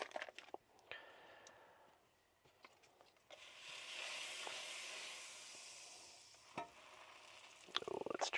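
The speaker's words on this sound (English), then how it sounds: "as I burn my grilled cheese" Grilled cheese sandwich frying in butter in a hot pan, a steady broad sizzle that swells loudly midway, with scattered stirring and scraping clicks near the end and no talk.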